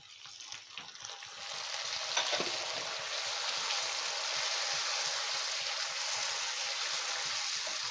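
Chopped tomatoes dropped into a hot pan with fried chili and curry leaves, setting off a loud, steady, close sizzle that starts with a few crackles and swells to an even hiss with no voices.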